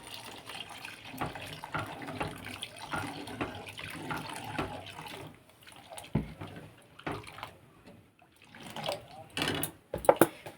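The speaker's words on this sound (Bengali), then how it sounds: "জল দিয়ে দেব।" Water splashes and pours steadily into a pot of fully boiled lentils in a home kitchen, then thins out as someone speaks over the remaining trickles.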